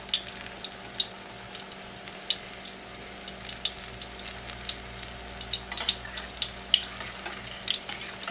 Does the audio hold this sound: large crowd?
no